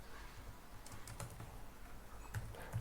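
Keys clicking on a computer keyboard while code is typed, a few soft scattered taps and short bursts over a quiet room background, fairly faint and close.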